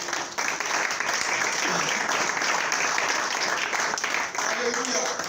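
A church congregation applauds during a sermon by a pastor, a dense, sustained wave of clapping that fills the space, with voices mixed into the crowd noise.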